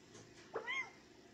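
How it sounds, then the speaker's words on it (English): A cat in Final Fantasy XV lets out a single short, fairly close meow that rises and falls over a quiet background hum. "It's a kitty cat! He's so cute!"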